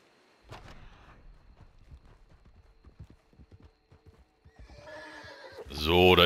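Horse in the video game Red Dead Redemption 2 trotting with a run of clip-clop hoofbeats, then letting out a loud, close whinny at the end, with someone talking in German over it.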